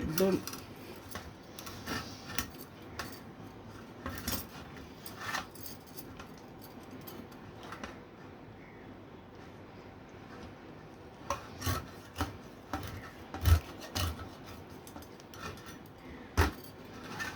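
Knife scraping and cutting through a large, fresh hilsa fish, a steady rasping and rubbing with irregular sharper scrapes and knocks, close and fairly quiet, with a voice talking at points.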